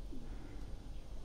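Racing pigeons coo softly from a loft, low murmuring calls under a steady background hum, with no talking.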